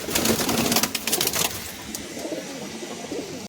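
Pigeons in a loft in Behala, Kolkata, cooing close by, with a burst of rustling and flutter at first that eases into steadier low coos.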